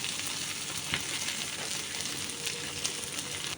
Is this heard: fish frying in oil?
yes